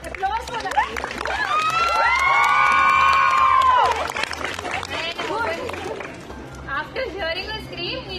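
A crowd of protesting university students shouts and cheers at a campus protest, loud excited voices swelling and then easing back, with chatter mixed in.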